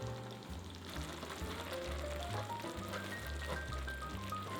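Tomato sauce with a cup of parmesan cheese simmers and sizzles steadily in a pan, a soft continuous bubbling hiss under faint background music.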